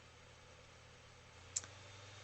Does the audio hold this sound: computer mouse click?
yes